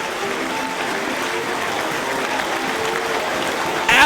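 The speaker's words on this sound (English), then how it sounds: "The crowd on their feet in Philadelphia." Wrestling crowd in Philadelphia on its feet applauding after a submission finish, a steady dense wash of clapping and cheering throughout, swelling louder in the final moment.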